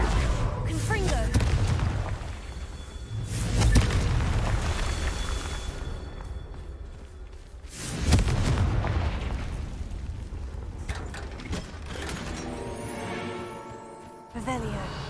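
Confringo blasting spell explosions in the video game Hogwarts Legacy, a few loud booming bursts that swell and fade amid busy game sounds and music.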